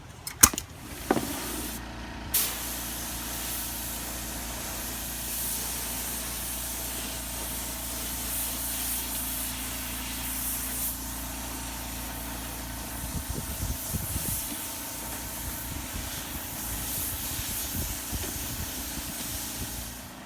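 A paint sprayer hisses steadily as it lays white paint on the underside of an end table, a continuous close spray with a compressor hum behind it and a few short clicks at the start.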